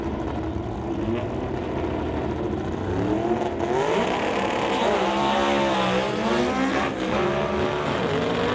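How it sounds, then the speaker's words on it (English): An Austin race car engine roars continuously down the racetrack at a drag event, a steady distant drone with rising and wavering pitch as it accelerates, no voices over it. "things not sounding terribly healthy for the Austin down the racetrack"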